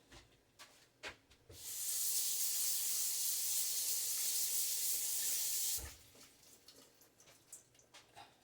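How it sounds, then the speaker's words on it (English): Brussels sprouts get a brief rinse under a kitchen tap, heard as a steady, close hiss of running water lasting about four seconds, with light clatter and handling noises before and after. "Just give me a quick rinse."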